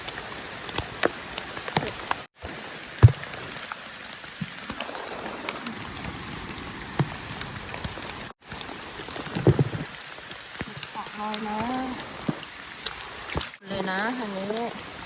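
Heavy rain patters steadily on surfaces outdoors while people forage for puffball mushrooms, a continuous hiss with scattered sharper drop hits and brief gaps, as voices talk over it near the end.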